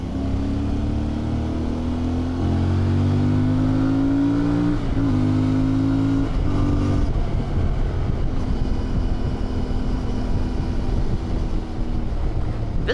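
A lightweight adventure motorcycle engine revs upward in a long rising pull, peaking around five seconds, then drops and settles into a steady drone, loud and close with no voices.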